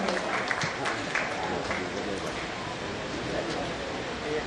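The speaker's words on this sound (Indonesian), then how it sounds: "Tepuk tangan untuk Eyang Titi Puspa yang sudah hadir di tengah kita pada malam ini" An evening gathering's audience applauds for Eyang Titi Puspa with a sustained wash of many hands clapping together, steady and moderately loud throughout, as crowd murmur mixes in.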